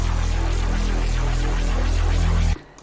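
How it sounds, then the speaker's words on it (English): A complicated, messy synthesized bass tone drones thick and distorted, loud and sustained for over two seconds before cutting off abruptly into near silence. "So let's say we have a really complicated and messy bass"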